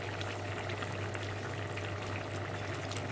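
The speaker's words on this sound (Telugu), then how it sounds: "ఇప్పుడు బాయిల్ అవుతుంది కదండి" Goat bone curry with capsicum, made from goat head and trotters, bubbling at a steady boil in a pot: an even, continuous hiss and gurgle at moderate level with a low hum underneath, no voices.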